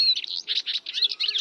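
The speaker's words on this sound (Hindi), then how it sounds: "लाडो चिड़िया की आवाज निकालता है" Cartoon sparrow Lado's call: a run of bright, rapid chirps and tweets in quick bursts with short gaps, clear and close, no talk over it.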